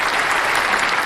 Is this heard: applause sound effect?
yes